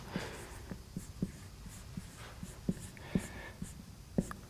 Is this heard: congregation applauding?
no